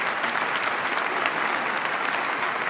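Steady applause on an Italian radio show, a continuous wash of many hands clapping at moderate level with no voices over it.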